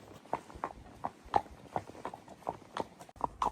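Steady clip-clop of horse hooves at a walking pace on a hack, close and crisp, with faint background noise and no talking.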